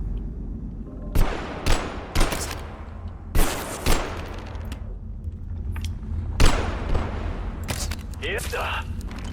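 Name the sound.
gunfire from a weak weapon in video game Abiotic Factor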